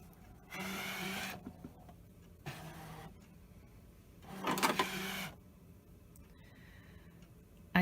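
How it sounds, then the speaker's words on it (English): ScanNCut cutting machine drawing in a cutting mat with white self-adhesive vinyl: three separate bursts of motor whirring and feeding, each lasting about a second, with quiet gaps between and a sharp click at the end. "I'm going to load the mat into the machine"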